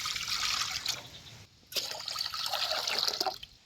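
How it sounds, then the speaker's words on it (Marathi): Fresh field-picked guar (cluster) beans are rinsed in water for cooking, giving continuous close splashing and trickling with a short pause midway before the sloshing resumes. "गवारी शिजत घालायच्या आधी गवारी जरा धुवूनच घ्यायची आणि मगच शिजत घालायची"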